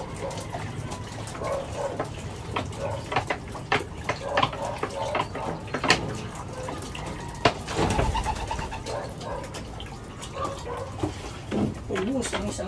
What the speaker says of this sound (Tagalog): Lagyan natin tubig to para.